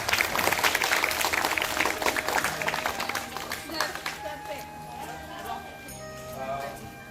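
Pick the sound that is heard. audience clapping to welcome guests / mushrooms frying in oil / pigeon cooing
audience clapping to welcome guests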